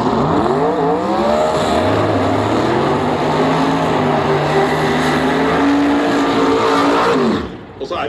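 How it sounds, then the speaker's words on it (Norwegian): A turbo drag racing car, billed as Europe's fastest, launches at Drag Challenge 2015 at Gardermoen Raceway and accelerates down the strip, its loud engine roar climbing in pitch through the gears for about seven seconds before cutting off abruptly. "The fastest turbo car in Europe."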